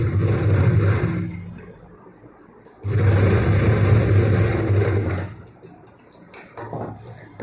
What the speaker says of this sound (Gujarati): અહીંયા સિલાઈ કરી લેશું